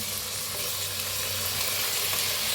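Potatoes, tomato and paneer sizzle steadily as they are stirred in a hot frying pan, a dense continuous frying hiss with no voices.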